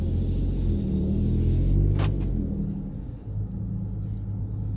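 A 2012 Ford F-150 fitted with a Flowmaster 44 Super muffler drives along, its exhaust giving a deep, steady low rumble with a slight rise and dip in engine tone, heard from inside the truck.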